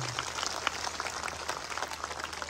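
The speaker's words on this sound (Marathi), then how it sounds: "एकदा माईसाठी सगळ्यांचे हात वरती करून जोरात टाळ्या झाल्या पाहिजे." Applause from an audience at a lively game-show event, a steady spread of clapping held at moderate level throughout.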